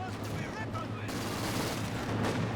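Small arms gunfire in the World War II strategy game Company of Heroes 2, heard as a rapid, fairly quiet crackle of rifle and machine-gun bursts over a busy battle din.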